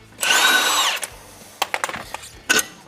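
A loud, continuous burst of a power tool loosening a strut nut on a Ford S550 Mustang, whirring for about a second, followed by several short rattling impacts and a final brief buzz.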